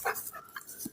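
Puppies give a few short, soft whimpers and whines close by, quiet and brief.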